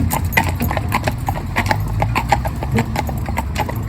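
Steady clip-clop of horse hooves on a hard surface, close by, in a brisk even rhythm with a low rumble underneath.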